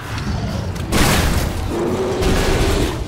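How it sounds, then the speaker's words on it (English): An explosion in the first-person shooter Shadow Warrior, a sudden loud boom with a broad rushing blast that lingers and rumbles for a couple of seconds after a quieter lead-in. "that explosion didn't even do jack"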